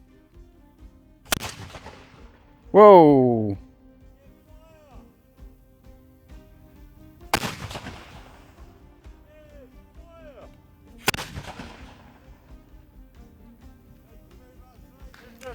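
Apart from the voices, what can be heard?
black powder wall gun firing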